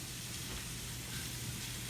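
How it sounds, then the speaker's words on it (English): Food sizzles in a skillet in a home kitchen, a constant close frying hiss with a low hum underneath and no voices. "Listen to that. Got a little sizzle action going."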